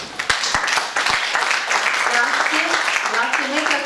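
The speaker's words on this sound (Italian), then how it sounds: "mentre accompagniamo con il nostro applauso la discesa del dottor Spatola e di don Matteo Moda" Audience applause at a public event in Varese, a dense patter of clapping that is loudest at the start, then continues under a voice speaking into a microphone.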